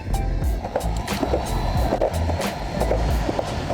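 A Meepo V3 electric skateboard on 100mm wheels cruises over pavement, making a steady rolling rumble with frequent clacks and thumps as the wheels cross cracks.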